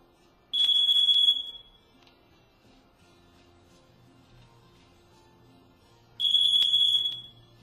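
Two long, shrill electronic alarm beeps from a carbon monoxide detector test, each about a second, separated by several seconds of quiet room tone; loud and close.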